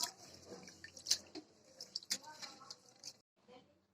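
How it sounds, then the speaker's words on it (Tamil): Rice and moong dal for malli pongal being washed in water, heard as close, irregular splashes, drips and sloshing clicks that fall quiet briefly near the end. "இப்போ அரிசியை நல்லா கழுவியாச்சு"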